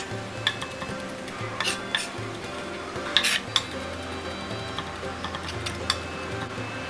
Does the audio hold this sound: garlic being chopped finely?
yes